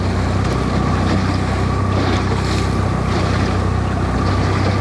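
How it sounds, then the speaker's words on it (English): Loud, steady rush of sea water and wind against the side of a Cardigan Bay coble fishing boat off Wales, with a continuous low rumble and occasional splashing surges, no voices. "I'm letting the sea hit on the side of the boat this way"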